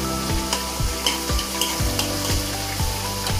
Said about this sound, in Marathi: आपल्याला कांद्याला जास्त करपवायचं नाही, थोडंसं भाजून घ्यायचं आहे।